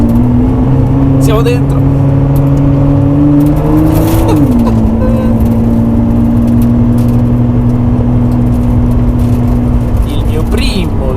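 Ford GT race car engine droning steadily from inside the cockpit on a lap of the Le Mans circuit during the 24 Hours, its pitch dipping and settling around a gear change, with a voice speaking over it throughout.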